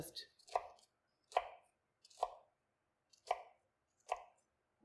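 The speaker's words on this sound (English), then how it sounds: "doing each job of cutting my onion one at a time for efficiency" A knife chops through an onion onto a cutting board in five evenly spaced, close, sharp thunks with quiet gaps between them.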